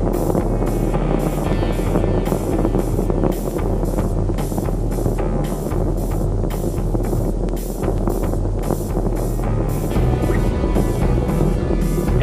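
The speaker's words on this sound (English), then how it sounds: "The 3 engines on board are throttling back up" Space Shuttle Endeavour's three main engines roar during launch as they throttle back up, a steady, dense, loud low rumble that stays constant with no voices over it.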